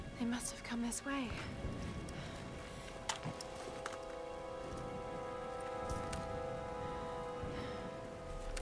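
Steady rain falls throughout a Tomb Raider game scene, a constant wash of droplets with a few sharper impacts, while game voices and effects sound over it near the start.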